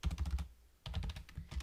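Rapid keystrokes on a computer keyboard during Java coding, a dense burst of clicks, a short pause, then more quick typing, close and clear with no talking.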